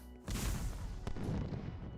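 Explosion sound effects playing from studio screens during a tabletop wargame live stream, a broad booming rumble that bursts in and holds steady, with a sharp crack near the middle.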